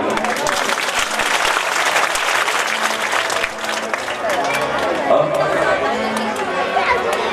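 An audience claps during a Bhagwat Katha discourse, dense sustained applause from a large crowd with background chatter and voices mixed in throughout.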